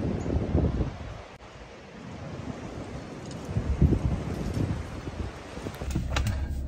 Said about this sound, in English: Nice and windy this morning.